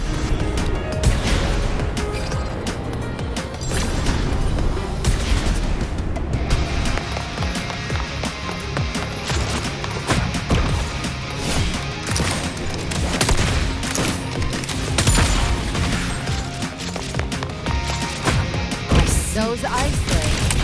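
Rapid gunfire and crashing impacts in the video game Wuthering Waves, a dense continuous barrage of loud shots and hits over game music and voice lines, with no letup for the full stretch.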